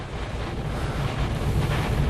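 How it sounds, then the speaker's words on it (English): Thunderstorm gust front battering a vehicle being driven into rain, heard as loud, continuous roaring wind buffeting the microphone with a deep, steady rumble. "we drove right into the gust front, as you saw on live TV, in Defender, and we are riding right now into the rain"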